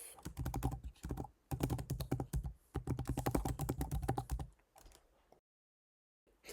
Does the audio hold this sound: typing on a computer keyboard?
yes